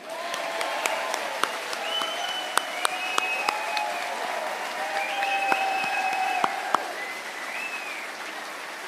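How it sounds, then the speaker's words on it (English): A party conference audience in Trowbridge applauds Anne Widdecombe, a broad wash of clapping from a large hall heard at moderate distance, with voices and a few cheers rising over it. "should we give another huge round of applause for the superb Anne Widdecombe?"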